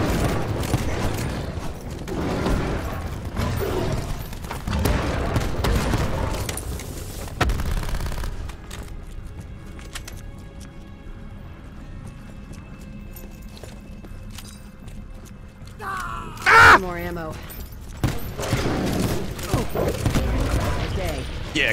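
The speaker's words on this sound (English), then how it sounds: "Exploding tigers." Explosions of exploding tigers in Call of Duty Black Ops 4, bursts of gunfire and blasts through the opening seconds, then a quieter stretch with one sharp, loud burst near the end, while a voice talks over the action.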